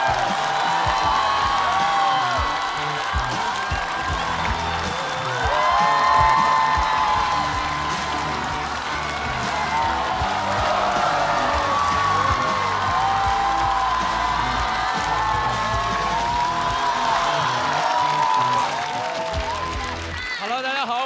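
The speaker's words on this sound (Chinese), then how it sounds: "我们掌声有请终生现役的刘洋教主" Studio audience applauding and cheering as a stand-up comedian is welcomed onto the stage, sustained clapping with some whoops under background music, loud and continuous.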